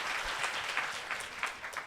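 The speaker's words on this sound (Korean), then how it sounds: "Please clap your hand to promise that you will become their family" A church congregation at a Sunday service with adoptee families claps together, a brief, fairly soft burst of steady applause in a large room.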